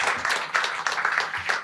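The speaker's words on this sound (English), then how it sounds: "A warm round of applause for the panelists, please" An audience at a post-European-election analysis event gives the panelists a short burst of applause, a brief patter of many hands clapping in loose pulses, with a trace of voices mixed in.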